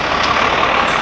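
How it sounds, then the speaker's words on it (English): Truck roaring past very close on a road in Patagonia between Argentina and Chile, a loud, steady rush of engine and tire noise filling the whole short moment. "About to get run over by a truck."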